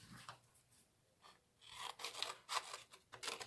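Scissors snipping through paper to make a small DIY pocket for a Father's Day craft, a series of quick, close, crisp cuts in irregular bursts, quiet and alone.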